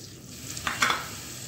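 Water poured into paneer masala frying in a pan brings a sudden burst of hissing sizzle that swells, then settles into a steady fry with light stirring, close and moderately loud.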